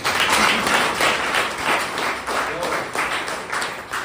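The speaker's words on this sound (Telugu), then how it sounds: "మీకోసం మీరు ఒక్కసారి క్లాప్ చేసుకోవాలి." An audience claps together at a motivational meeting, dense applause that swells and fades over a few seconds.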